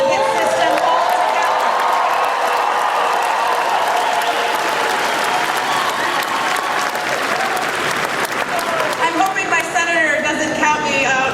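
Sustained applause from a Democratic party convention audience in Maine fills a large hall, steady and dense throughout, easing slightly toward the end as voices and scattered claps come through.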